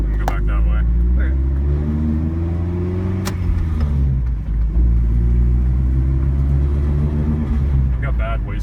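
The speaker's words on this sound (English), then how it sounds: "I've got bad wastegate rattle right now. That's what you keep hearing." A big-turbo Genesis Coupe 2.0 R-Spec with bad turbo wastegate rattle, heard over a loud, close, steady engine drone while driving.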